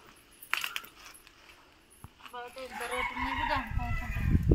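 Hen sitting on her eggs in a village yard, giving soft low clucks and a short murmuring call, faint and close, with quiet rustling and a person talking nearby.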